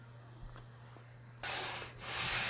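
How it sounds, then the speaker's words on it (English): After a moment of quiet, close-up abrasive sanding of 1/8 inch MDF filler strips starts abruptly, a loud rough hiss that briefly dips and then resumes strongly. "Sanding my 1/8 inch MDF filler strips at a very slight angle ensures a really tight fit"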